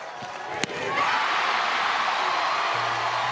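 Softball crowd cheering for the Oklahoma Sooners at a college championship game against Texas, a broad steady roar that swells after a sharp knock and holds loud and sustained.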